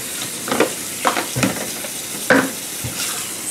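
Beans for chili being rinsed with water in a home kitchen, heard as a few short splashing, rustling bursts with small gaps between them, close and moderately loud.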